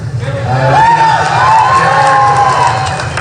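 A large crowd at a Donald Trump rally in Reno cheers and shouts loudly in a room, a sustained roar with rising whoops and voices that holds strong throughout.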